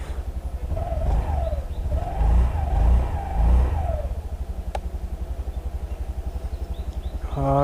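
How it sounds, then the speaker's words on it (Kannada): A 2025 Honda Activa 125 scooter engine idles close by with a steady, low, pulsing hum that holds throughout, with a brief faint click partway through. "ಇವಾಗ ಫಸ್ಟ್ ಇಂಜಿನ್ ಸೌಂಡು"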